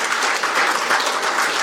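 Brief, steady applause from an audience at a National Assembly forum in Korea launching a maritime talent strategy, even and sustained with no voices over it.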